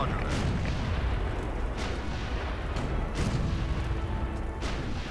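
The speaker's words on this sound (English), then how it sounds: "Where am I being shot from?" Rapid, repeated gunfire bursts from Empires: Dawn of the Modern World, dense and continuous, with heavier thumps spaced through the clip.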